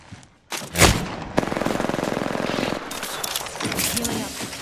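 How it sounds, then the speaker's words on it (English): Gunfire in the battle royale game Apex Legends: a sharp shot, then a rapid sustained burst of automatic fire lasting over a second, followed by further scattered shots, loud and close. "They spotted me. I'm taking shots."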